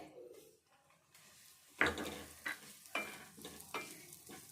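Ingredients for a sweet are fried in a pan while being stirred, with soft sizzling broken by several sharp scraping and clinking strokes of a spoon against the pan, fairly quiet and close.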